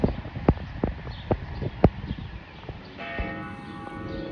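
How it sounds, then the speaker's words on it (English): A clock tower church bell begins chiming, with harmonic bell tones entering partway through, over outdoor street noise and sharp knocks and clops. "Here's the bell, Fluttershy."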